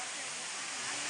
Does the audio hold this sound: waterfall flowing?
yes